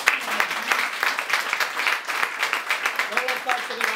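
A theatre audience applauds in dense, sustained clapping that swells and eases in waves, with a voice speaking over it near the end.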